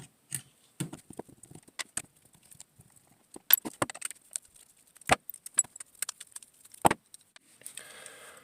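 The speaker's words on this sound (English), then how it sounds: "now we will take a 7/16 Allen key and take these grip screws off right here." Close metallic clicks and light tapping scattered unevenly as an Allen key loosens the grip screws on a Chiappa Citadel M1911 .22LR pistol, with short quiet gaps between contacts and no talking.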